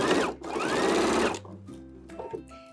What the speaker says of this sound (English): I'm going to be sewing up the sleeve with a 1/2 inch seam allowance